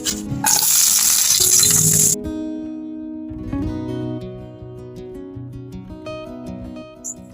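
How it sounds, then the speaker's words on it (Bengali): Chopped onion and garlic frying for a mushroom dish, a loud bright sizzle for about two seconds that drops away abruptly, followed by quieter pan clinks and light stirring, no talking. "তো পেঁয়াজ রসুন ভাজা হয়ে গেছে"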